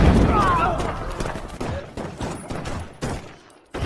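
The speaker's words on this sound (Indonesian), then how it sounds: "Tiba-tiba, mereka ditembaki oleh tentara Korea Selatan secara membabi buta." A rapid burst of gunfire, soldiers shot at indiscriminately in a Korean War scene, cracks in several sharp volleys of repeated shots over about four seconds, loud and close, with a voice narrating over it.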